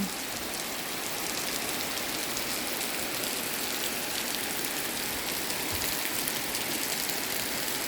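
Heavy rain pours steadily outdoors near a forest home, a dense, continuous hiss of drops on surfaces with no talking.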